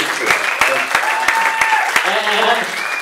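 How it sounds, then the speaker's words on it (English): An audience at a live science communication comedy show claps in sustained applause, close and loud, with a few sharper individual claps standing out and voices faintly mixed in. "Can we give a round of applause?"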